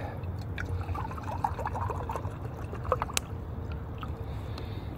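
Water being poured into a container outdoors, a gurgling, splashing stream with scattered drips and small clinks, at moderate loudness and with no talking.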